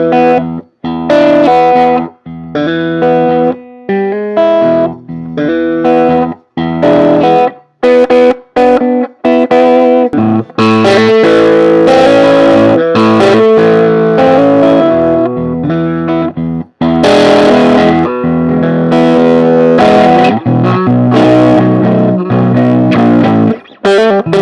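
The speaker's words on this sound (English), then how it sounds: "Sounds pretty damn distorted, and it has some great rock and blues tone to it" Loud distorted electric guitar, a Fender Pawn Shop model, playing chords and riffs with rock and blues tone, crunchy sustained notes broken by brief stops, heavy effects and reverb, no voices.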